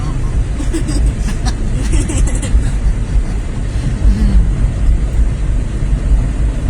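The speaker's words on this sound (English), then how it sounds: "it feels good riding in this car with air conditioning" Riding inside a car with the air conditioning running: a steady, loud low rumble of road and engine noise with a constant airy hiss throughout, and muffled voices in the cabin.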